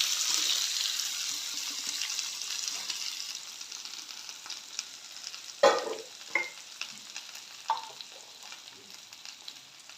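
Cut potatoes with turmeric frying and being stirred in a pan for aloo bhaji, a soft sizzle that fades, then a few sharp scraping stirs and clatters near the end.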